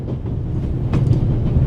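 A moving train in the video game The Raven Remastered, a loud steady low rumble with rhythmic rattling of the cars and a brief metallic clank partway through.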